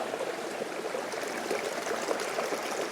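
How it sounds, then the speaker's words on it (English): A small waterfall splashes and burbles steadily in a stream, a continuous close-up rush of flowing water. "Nice little waterfall over the tree there"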